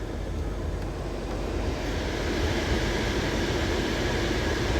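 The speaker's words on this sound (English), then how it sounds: "I started my truck right now." A truck engine, just started, runs at a steady, loud, low rumble that continues without a break, with no voices over it.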